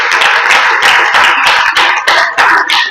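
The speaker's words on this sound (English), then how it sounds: "Clap for 1997." Audience clapping at a school alumni annual general meeting for the 1997 year group, a loud, close, uneven burst of many hands applauding steadily for three seconds with no voices over it.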